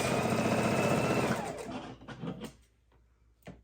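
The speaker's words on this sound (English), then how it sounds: "we're just chain sewing these" Sewing machine chain sewing fabric blocks for a soup bowl cozy, running in a loud steady whir for over a second before stopping, followed by a few softer clicks and handling noises.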